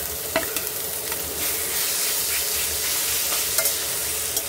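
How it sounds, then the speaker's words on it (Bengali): Fish frying in a pan with coriander leaves, a steady bright sizzle with a few sharp spatters and clicks, close and continuous. "আর এবার মাছগুলোকে দিয়ে দিচ্ছি।"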